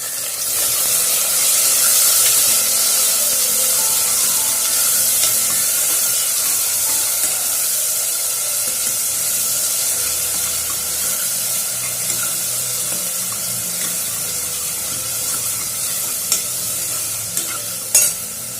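Tomatoes tossed into a hot pan for millet sambar, giving a loud, continuous sizzle and hiss with stirring throughout and a couple of sharp knocks near the end, no voices.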